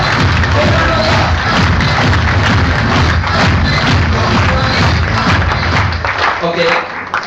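A live audience at a stage show in Bangalore breaks into loud, sustained applause, a dense wash of clapping and crowd noise lasting several seconds before tapering off at the end.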